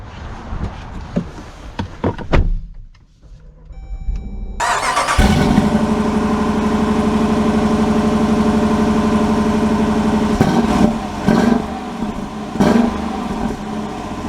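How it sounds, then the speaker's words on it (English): A 2023 Dodge Durango R/T Hemi V8 cranks into life, then settles into a steady, loud, deep idle that runs close by for about ten seconds with a few small blips in the rumble. "gotta love the sound of that Hemi V8"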